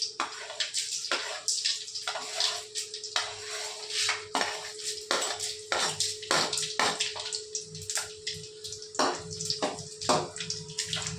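Seeds go into hot oil in a pan and set up a busy sizzle and crackle, with scattered pops and light clinks of utensils, fairly close and continuous throughout.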